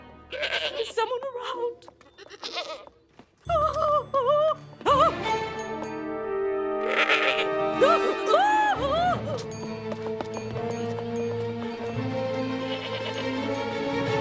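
Goats bleating in a village in the animated series Heidi 3D, several wavering calls mid-clip over background music, with someone speaking briefly between them.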